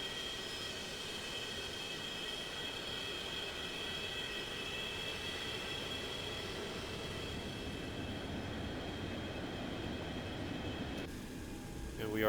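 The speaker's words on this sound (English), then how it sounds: "The engine sounds are pretty nice. They are in F mod, so 3D sounds." The jet engines of a FlyJSim Boeing 727 in a flight simulator roar steadily while the airliner taxis toward a runway, a constant broadband rumble with a thin high whine, changing briefly at the end.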